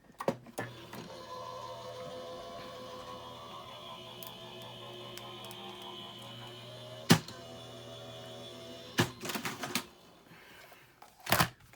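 A die cutting machine feeding a card through, a steady mechanical whir and hum with a sharp click partway through and a few handling knocks and rattles near the end, close and moderately quiet.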